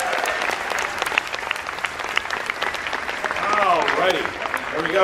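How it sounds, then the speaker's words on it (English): A live trivia competition audience applauds, a lively round of clapping with cheering voices mixed in, while a host's voice carries over the crowd. "If I can ask the audience for a quick round of applause for the man who sponsored 2 slices on that wheel, Mr. Jake Burnham."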